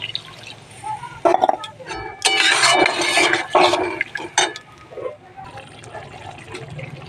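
Water is poured into a thick fried curry in a pan, a close, fairly loud splashing and sizzling pour lasting a few seconds before easing off.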